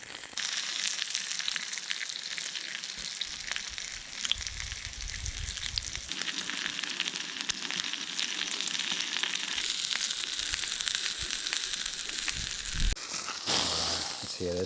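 Pork cutlets sizzle steadily in a cast-iron pan on a wood-fired pot belly stove, a dense close hiss that swells midway, with a brief louder clatter near the end.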